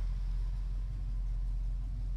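A car with a fully rebuilt engine idles close by with a steady, deep low rumble that holds even throughout; the start is not clearly heard and nobody speaks.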